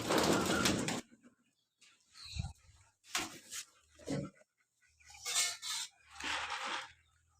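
Pigeons on a pigeon farm give several separate low cooing calls in short bursts, close and moderately loud, with quiet gaps between them and no talking.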